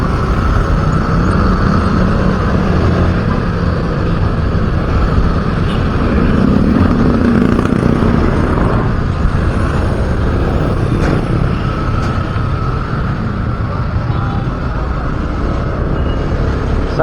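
Kymco motorcycle engine running steadily on a busy road in Tutuban, a continuous moderate drone with broad traffic noise throughout, no clear talking.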